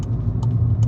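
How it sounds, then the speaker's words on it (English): A van on a road approaching as a low, steady engine rumble, close and continuous, with a few faint higher clicks on top. "van approaching"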